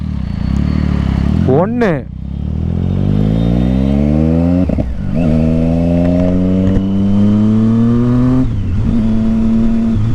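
A loud Triumph Street Triple motorcycle revs hard through its exhaust, with sharp throttle blips followed by long rising engine notes that hold and climb. A voice briefly counts down near the start.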